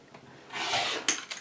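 A single quick cut through quilt fabric for pineapple blocks makes a brief, close scraping rasp, ending in a sharp little snap.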